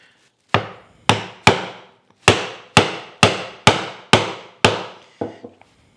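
Sharp, separate mallet strikes on a chisel chopping a hand-cut mortise in wood, about ten solid thwacks in an uneven rhythm, close and loud. The last two blows are lighter, with no talking.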